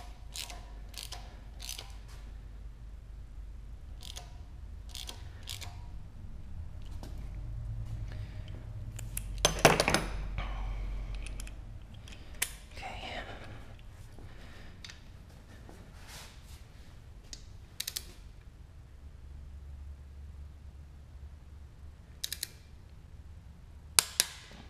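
Torque wrench tightening bolts during an LS engine swap on a Porsche 944, with sharp, close clicks and ratcheting sounds scattered irregularly over quiet background.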